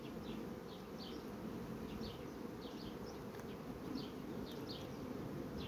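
Honey bees swarming over a hive frame, a dense, continuous low buzz with occasional higher individual wingbeats passing close by, steady and alone without speech.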